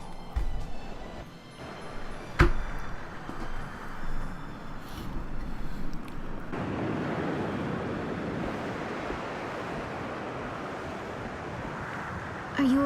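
Ocean waves during a Tales of Graces f cutscene at sea, with a soft rush of surf and wind growing into a steady continuous wash, moderately loud with a few faint clicks and tones.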